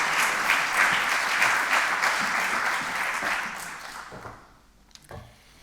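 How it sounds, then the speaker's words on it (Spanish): Sustained audience applause at a public forum as a former foreign minister is introduced, dense and steady for about four seconds before fading to scattered claps and near quiet. "Un aplauso"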